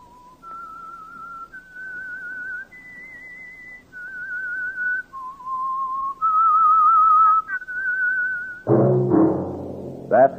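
A single clear whistler carries a slow melody of sustained notes that step up and down, ending in a brief burst of orchestral sound.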